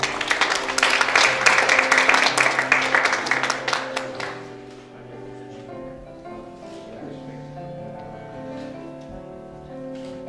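Applause rings out in a hall at a sports awards gala, dense clapping for about four seconds before fading to scattered claps over a soft background murmur.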